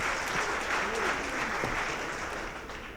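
Audience at a film event applauding the 24AM team, a thick continuous roar of clapping from a large crowd, loud and sustained, tapering slightly toward the end.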